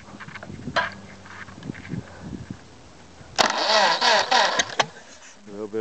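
A 1926 Ford Model T engine is cranked and catches, bursting into a loud, uneven running chug after some quiet clicks and fiddling, with a brief voice heard early on.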